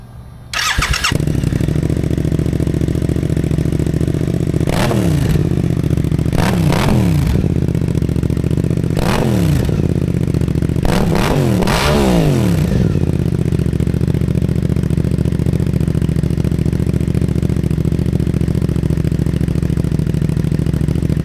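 A Suzuki GSX-8R/GSX-8S motorcycle with a slip-on exhaust starts up and idles with a deep rumble, punctuated by several sharp revs that rise and fall before it settles back to a steady idle.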